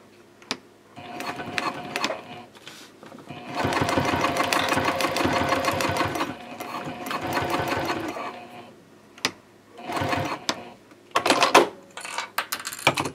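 Sewing machine top stitching a gusset on a sling, 1/8 inch from the seam at a 3.5 stitch length with back stitching at each end; close, loud stop-start bursts of running, one long steady stretch, then shorter runs.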